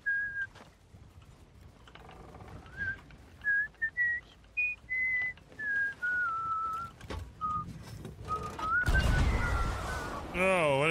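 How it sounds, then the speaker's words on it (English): A person whistles a wavering melody of short and sustained notes in the Sea of Thieves video game, with in-game clatter and a loud burst of noise near the end. "Stop whistling!"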